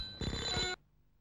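A telephone gives a single short burst of ringing, a bright electronic bell trill lasting under a second, fairly quiet and alone before falling silent.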